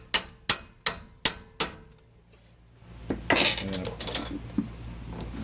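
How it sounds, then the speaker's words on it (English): Five sharp metallic taps of a hammer on the rear brake rotor of an Infiniti JX35/QX60, evenly spaced and ringing, followed by clattering and handling noises. "take the hammer, just give it a few taps"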